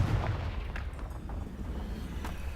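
The Confringo fire spell from Hogwarts Legacy bursts in a deep rumbling blast with booming low-end roll and scattered crackles, continuous and heavy across the moment.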